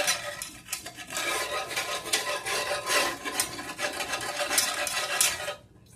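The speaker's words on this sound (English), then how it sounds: "it's going to take a little bit for us to get the bits and pieces scraped up" A utensil scrapes browned bits loose in a pan while making gravy for a Southern breakfast, giving a steady, close rasping and scratching that goes on for several seconds before stopping.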